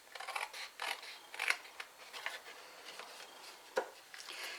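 Scissors snipping along score lines in paper for a birthday calendar, a series of quick soft cutting snips and rustles at close range, uneven in rhythm with one sharper snip near the end.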